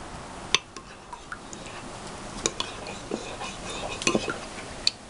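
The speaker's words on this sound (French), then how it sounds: "On mélange bien." Yeast, oil and honey being mixed in a bowl for no-knead bread: light, irregular clinks and scrapes of a utensil stirring close by, with a few sharper taps and no talking.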